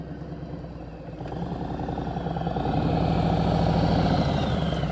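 A motorcycle engine runs at low speed during a slow-speed riding lesson. The steady mid-pitched rumble idles at first and then swells as the revs rise and the bike draws nearer, and it continues throughout with no talk.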